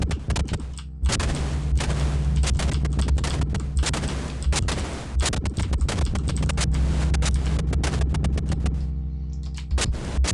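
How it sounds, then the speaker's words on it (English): Rockets fire in rapid succession in Poom, a Doom-style video game, a loud, dense barrage of blasts and booms that runs nearly continuously, with brief lulls at the start and end. "open with some rockets"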